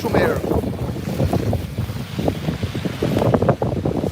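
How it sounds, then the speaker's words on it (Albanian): Strong wind buffets the microphone at a bus stop on a snowy day, a loud, steady, rumbling roar that fills the whole clip with gusty surges. "E kam të vështirë pak të shtyp butonin te kamera sepse ka shumë erë"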